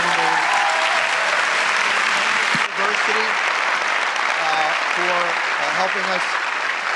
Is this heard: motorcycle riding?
no